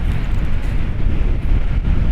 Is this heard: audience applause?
no